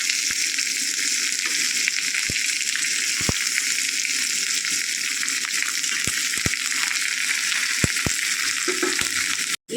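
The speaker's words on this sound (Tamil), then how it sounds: "வெங்காயம் கொஞ்சம் நல்லா வதங்கட்டும்." Onions fry in a pan for a South Indian vada curry, a steady loud broadband sizzle running throughout with occasional sharp clicks of a spoon against the pan, no voices.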